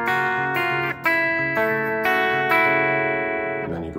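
Distorted electric guitar plays chords, several sustained strummed chords changing roughly every half second, loud and close with no voice.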